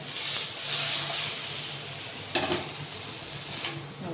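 Oil sizzles steadily in a pan while a semolina and potato snack fries, a continuous crackling hiss broken by a couple of brief louder spatters, close and with no voices.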